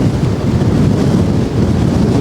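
Strong wind at sea roars across a ship's deck near Porquois Pas Island, a loud dense rumble with constant buffeting and no voices.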